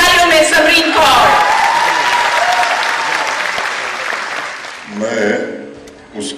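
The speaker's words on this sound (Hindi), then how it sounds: "आपकी भरपूर तालियों में समरीन कौर" An audience at a Jammu and Kashmir public event claps loudly and continuously for Samreen Kaur, the applause slowly fading before a voice speaks near the end.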